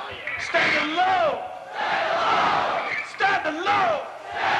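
Hardcore punk concert crowd in Boston in 1990 yelling a chant in unison, loud massed shouts in repeated bursts with a single lead voice leading between them.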